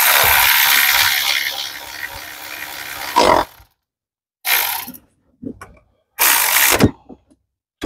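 A ratchet turns a long bolt on a Dodge Durango water pump, with a sustained run of rapid close clicking, then several short bursts of ratcheting separated by silence.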